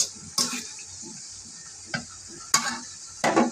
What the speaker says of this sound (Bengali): আর আপনারা চারিদিকে এরকম ঘুরিয়ে ঘুরিয়ে করবেন, সব দিকে ভালোভাবে কুক হবে।